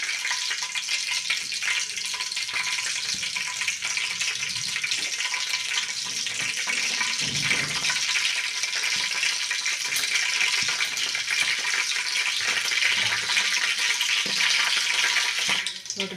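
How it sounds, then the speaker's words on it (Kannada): Cumin and mustard seeds splutter in hot oil with a loud, continuous crackling sizzle and dense popping close by. "ಜೀರಿಗೆ ಸಾಸಿವೆ ಚಟಪಟ ಅಂತ ಸಿಡಿದ್ಮೇಲೆ"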